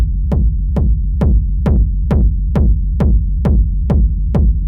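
Techno kick drum saturated through a Decapitator plugin, ten heavy booming hits at a steady four-on-the-floor pulse over a constant low rumble, each with a sharp click attack, loud and alone.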